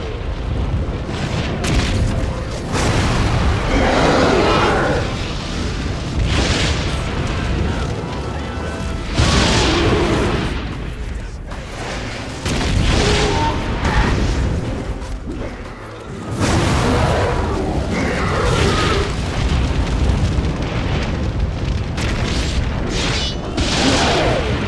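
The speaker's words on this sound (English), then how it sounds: "That huge machine sprays fire upon the field!" A huge siege machine in the Lord of the Rings: Conquest video game sprays fire across a battlefield, making loud, rolling roars and booming whooshes that surge and fade in long waves.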